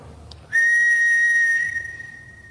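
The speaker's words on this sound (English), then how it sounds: "Whistle. Can you whistle?" One sustained, pure whistle tone sounds in a quiet room, starting abruptly and holding for over a second before fading away.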